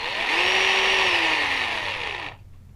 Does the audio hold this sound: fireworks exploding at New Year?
no